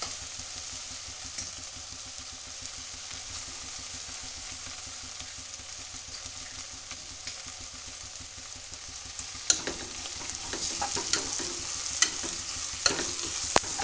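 Veg pulao ingredients stirred and fried in a pan, with a continuous close sizzle and scraping strokes of the spoon that grow busier and louder toward the end.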